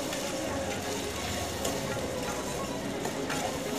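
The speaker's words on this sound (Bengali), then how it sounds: "টমেটো দিয়ে খুব ভালো করে নেড়ে এটাকে ভাজতে হবে" Chopped tomato pieces sizzle and fry in a pan while being stirred, a steady dense hiss at moderate level with no clear pauses.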